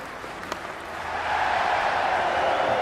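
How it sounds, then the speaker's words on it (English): A stadium crowd in the Cricket 26 video game at an IPL match swells into a broad, steady roar of cheering and applause that grows louder and then holds. "already the crowd is up and about"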